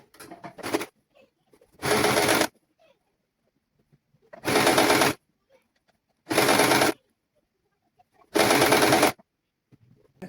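A sewing machine stitches a baby's summer dress in four loud, steady bursts of about a second each, separated by near-silent pauses, with a short burst at the start and small handling clicks in between.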